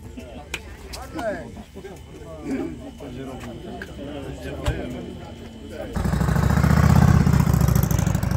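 A classic vehicle's engine starts and settles into a loud, steady running rumble at a vintage car rally. Several people chat nearby for the first several seconds before the engine takes over.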